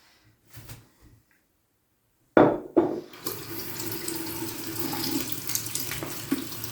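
Water runs from a sink tap while a shaving brush is rinsed, starting abruptly after a quiet moment and then splashing steadily and close.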